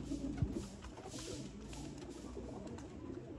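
Sialkoti pigeons coo softly in a breeder's loft, a low steady murmur of overlapping calls with a few short bursts, fairly close and without talk.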